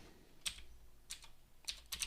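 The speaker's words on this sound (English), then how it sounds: "So let's type some code here." Someone types Python code on a computer keyboard, with quiet, close clusters of key clicks in short bursts separated by brief pauses.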